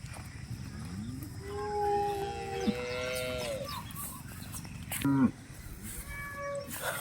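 A cow on a farm moos in several long, drawn-out calls at moderate distance, with a louder short call near the end and faint background activity.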